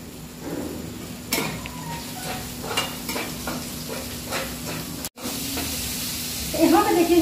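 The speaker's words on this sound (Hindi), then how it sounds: "इसी की जगह हम सोयाबीन भी इसमें हल्के से भून लेंगे" Soybean chunks lightly frying with vegetables and tomato in a pan for veg chowmein: steady soft sizzle with scattered stirring and scraping clicks, a brief cut, then a brighter crackle at the end.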